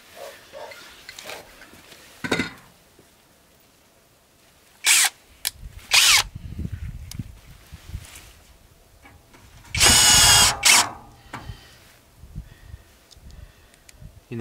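A cordless screwdriver drives screws into wooden slats outdoors at dusk. Several short loud whirring bursts are separated by quieter gaps with knocks and handling noise, and the longest run comes near the end.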